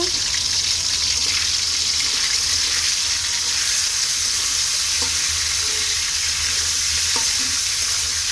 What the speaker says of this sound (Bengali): তারপরে আমার হাতে আছে কিছু চিকেন, যেগুলো কেটে রেখেছিলাম সেগুলো আমি দিয়ে দিব। এটাকে একটু লাল লাল করে ভেজে নিব।